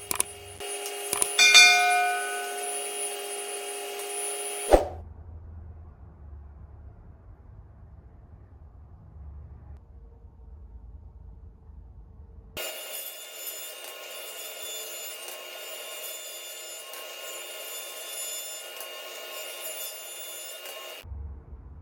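SawStop professional table saw run without its blade guard, cutting wood: a loud high-pitched whining cut for several seconds, a lower motor hum between, then another long steady cut near the end.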